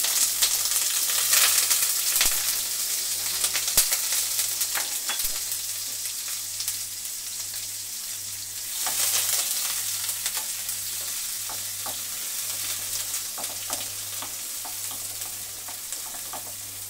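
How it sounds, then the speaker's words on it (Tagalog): Garlic and onion frying in a pan for a bitter gourd dish, a steady loud sizzle with occasional stirring scrapes, continuous and close throughout. "So, lalagay na natin guys ang bawang at sibuyas."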